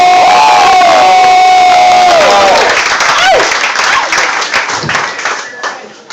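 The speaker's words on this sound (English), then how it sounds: "please give it up for your headliner of the evening, Tyler Schumacher!" A comedy club audience erupts in loud cheering, whoops and applause for the evening's headliner, a dense roar that stays high and slowly thins toward the end.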